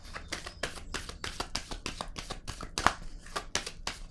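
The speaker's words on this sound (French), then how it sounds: "Je vais piger une autre carte." A card drawn from a deck amid repeated crisp papery snaps and flicks, a dozen close sharp card sounds in a steady rhythm with one louder slap near the end, no voices.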